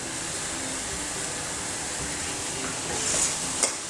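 Carrot halwa with cardamom, cashews, almonds and pistachios cooking in a pan, giving a soft, steady sizzle with faint stirring scrapes and a brief clink near the end.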